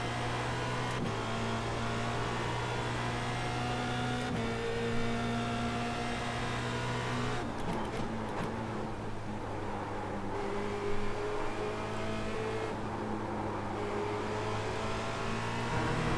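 Formula Renault 2.0 race car engine in iRacing at Spa, with sustained tonal engine notes that climb through the revs and drop sharply at gear changes several times, close and loud with no talk.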